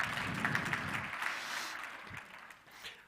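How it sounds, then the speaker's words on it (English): Faint, distant applause at a Johannesburg industry conference, a short round of clapping that fades out over a few seconds. "I think we can even give him a round of applause in his absence in the meantime"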